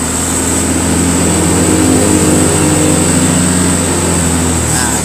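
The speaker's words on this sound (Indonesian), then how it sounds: "Kita gas di kira-kira 5000 rpm." Loud, steady drone of a motorcycle engine held at around 5000 rpm during a battery charging check, a constant close-up roar with no talking.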